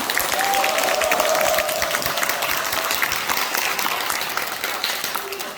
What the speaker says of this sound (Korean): 그래서 여러분들이 큰 박수로 맞이해 주시기 바랍니다.